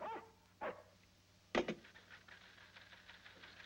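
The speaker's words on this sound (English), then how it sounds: "The dogs are upset, sir, and I can't see any reason for it." Upset guard dogs bark a few times, two or three sharp, faint barks spaced apart over a quiet background.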